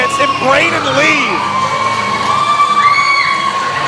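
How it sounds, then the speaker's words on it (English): A crowd at an independent wrestling championship match cheers and whoops loudly, with shouts rising and falling across the few seconds. "And the crowd absolutely adoring Brayden."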